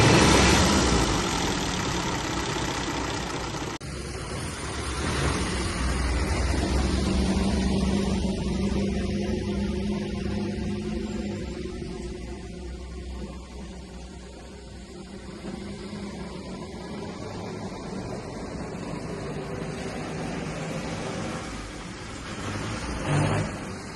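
A revived 1934 Austin Seven Ruby's four-cylinder engine idles steadily close by, a continuous low mechanical chug with a slight knock that stays even for the whole stretch, with no talk over it.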